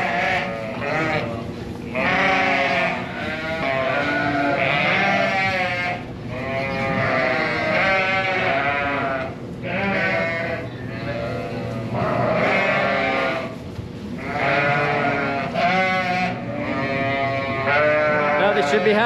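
Sheep and ewes bleat almost continuously in a busy lambing barn, overlapping calls rising and falling in loud, close waves with brief lulls between them.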